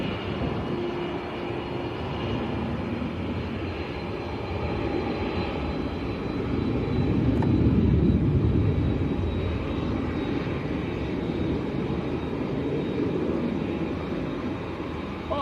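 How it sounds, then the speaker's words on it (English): A Boeing 787 Dreamliner airliner taxiing at Manchester Airport, its jet engines giving a steady loud rumble and whine that swells a little midway as it rolls forward, with no talking. "the Dreamliner's about to taxi forward"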